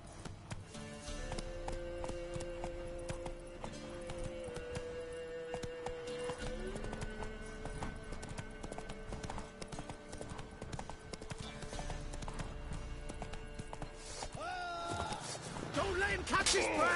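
Horse hooves clip-clop at a gallop in The Witcher 3 video game, a quiet steady rhythmic pounding that runs throughout under game music and ambience, with a louder burst of sound near the end.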